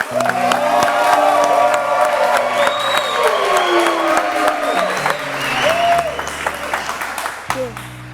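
An audience at a children's day show claps and cheers loudly, whoops and shouts riding over dense applause that thins toward the end, with a voice and musical tones mixed in.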